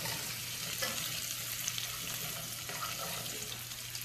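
Potatoes fry in bacon grease in a pan while being stirred, giving a steady close sizzle and hiss with faint scraping and no talk.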